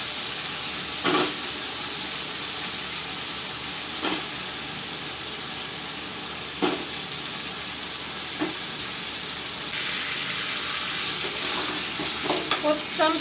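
Potatoes frying in browned masala while cooking macher jhol, a Bengali fish curry with potatoes, give a steady close sizzle with a few sharp stirring bursts and spatters.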